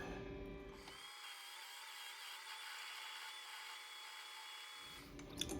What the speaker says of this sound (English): what I used here is a 1/8 inch cutoff tool